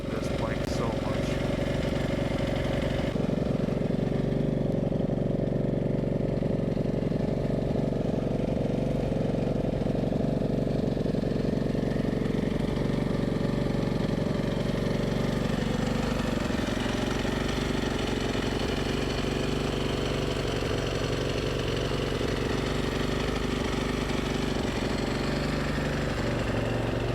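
An Aprilia SXV 550 motorcycle, just out of storage, idles loudly nearby with a rough, throbbing engine drone throughout, while people talk over it.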